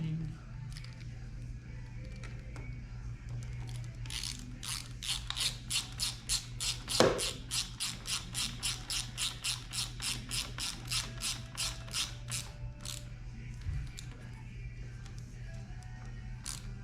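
Ratchet tightening the nut on a Yamaha FZ-07 clutch lever, a rapid series of close, crisp clicks in a steady rhythm, with quiet talk around it.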